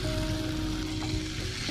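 Peanuts hitting a hot pan for a poha- or upma-style dish, giving a steady, dense sizzle that sounds close and continuous with no talk over it.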